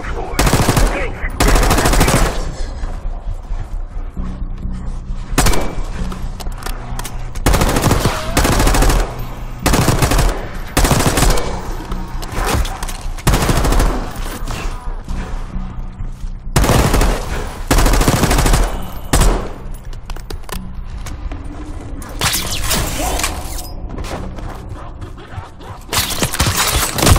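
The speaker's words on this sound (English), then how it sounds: "You hearing gunfire? Yeah, sounds like it's coming from one of the lower floors." Loud bursts of machine gun fire in Call of Duty: Black Ops 6 crackle from the lower floors of a building, coming in repeated long volleys separated by short pauses, harsh and close, with sharp impacts between.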